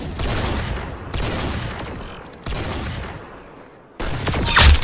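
Video game gunshots ring out in four loud blasts spaced about a second apart, each followed by a decaying rumbling tail, the last one sharper with a brief high ring.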